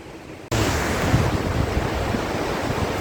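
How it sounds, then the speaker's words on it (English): A stony river in North Bengal rushes in a steady, loud broadband roar of water over rocks, starting abruptly and continuing without break, with wind buffeting the microphone. "And the sound of the river is sweet, delicious, and this sonorous scenic"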